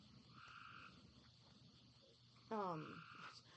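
A frog croaks once, loud and close, after a stretch of faint steady background hum and tones.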